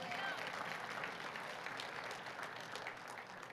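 Church congregation applause during a sermon, a sustained wash of many hands clapping that stays fairly even and slowly tapers toward the end, heard at a moderate distance.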